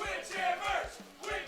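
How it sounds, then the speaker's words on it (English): A tournament audience at a Windjammers 2 top-four match in the Frosty Faustings XVI 2024 Vortex Gallery cheers and yells in bursts, a distant, fairly faint crowd roar rising and falling over about a second and a half. "They're cheering out there."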